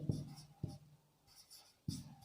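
A pen scratches across paper up close, making short, soft strokes with brief pauses between them, quiet and alone during a math lesson.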